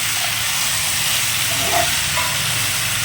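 Fish curry fries on a low flame with a steady, dense hiss and sizzle that stays constant and close throughout. Faint sounds of stirring come and go underneath, and no one speaks.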